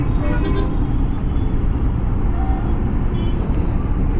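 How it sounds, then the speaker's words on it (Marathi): Morning traffic in Indore city makes a dense, continuous rumble of engines close by, with a faint tone passing through. "ही आहे इंदोर सिटीतली सकाळची ट्रॅफिक."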